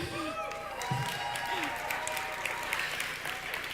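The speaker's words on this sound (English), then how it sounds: "I think we already can give a warm applause for the 3 first inspiration speakers we just have today." An audience at an evening event gives warm applause for inspiration speakers: a soft, continuous wash of clapping, fairly distant, with faint tonal sounds and murmur mixed in.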